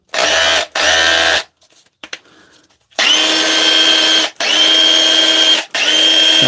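A DeWalt hammer drill, just repaired with new brushes, runs loud and close in several long bursts with short pauses between them, a whining motor over a hammering buzz.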